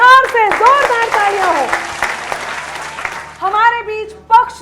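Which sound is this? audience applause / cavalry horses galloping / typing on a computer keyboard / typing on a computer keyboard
audience applause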